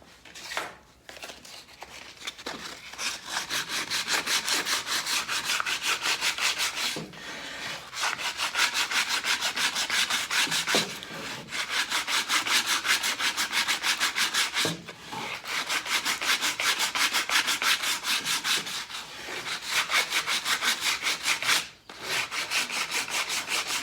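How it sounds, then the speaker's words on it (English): Sandpaper rubs back and forth along the edge of a cedar board for an outdoor end table, a steady, loud, close scratchy rasp in long strokes broken by a few brief pauses, with no talking. "So I'm going to get some sandpaper and just sand that off, get rid of the, expose that edge."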